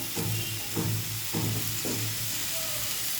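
Four green chilies drop into a hot pan of oil and spices, each hitting with a brief crackle over a constant loud sizzle; close and steady, with no talking.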